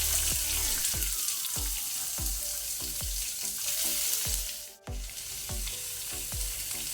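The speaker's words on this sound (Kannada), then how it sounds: "ಈಗ ನಾವು ಈರುಳ್ಳಿಯನ್ನು ಒಳ್ಳೆ ರೀತಿ ಫ್ರೈ ಮಾಡ್ಕೊಳ್ಳುವ" A large onion frying in a pan with cumin, curry leaves and green chilli, a steady crackling sizzle with repeated stirring scrapes and clinks of a spoon against the pan, close and continuous.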